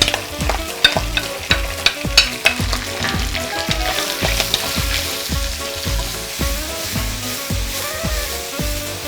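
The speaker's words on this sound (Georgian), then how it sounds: "მოითუშა ოდნავ ჩვენი, ასე ვთქვათ, ხახვი და ხორცს პროდუქტები" Onion fries with bacon and chorizo in a pan for a Spanish fabada, a loud close sizzle broken by regular sharp scraping strokes of stirring, with no voices.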